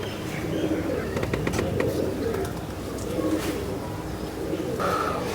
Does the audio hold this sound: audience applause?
no